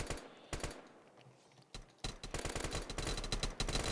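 Gunfire from the Roblox shooter Pulse FPS, first as scattered single shots and short bursts, then as sustained rapid automatic fire that stays loud and close until the end.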